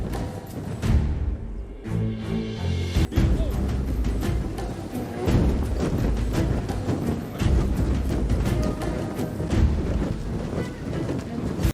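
Soldiers march in a dense, rumbling wash of repeated footfalls and thuds, steady and fairly loud throughout, with no voices standing out.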